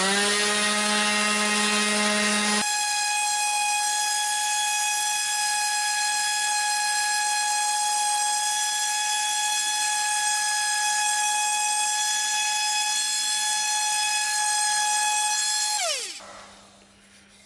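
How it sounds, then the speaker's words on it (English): A small electric palm sander rounds the edges of a turned wooden dish, holding a steady high-pitched motor whine for several seconds before switching off and winding down. "So I'm doing a lot of sanding with this little palm sander I've got just to round these edges off."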